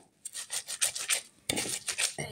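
Green chillies ground to a paste in an electric spice grinder, giving repeated rasping, scraping bursts in short pulses, then a louder continuous whirring grind near the end, close and alone.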